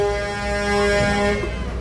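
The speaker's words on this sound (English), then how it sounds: "if the honking startles you, it is pretty darn loud." Loud tow truck air horns blare at the Rose Parade on Colorado Boulevard in Pasadena, a sustained tonal honk holding steady for nearly two seconds over crowd and street noise.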